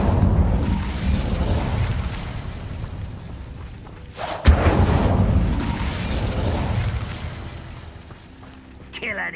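Incendio fire spell cast in the video game Hogwarts Legacy, with rumbling mechanical whooshes and a sharp loud burst midway, followed by continued roaring and a fading tail, partly under voices.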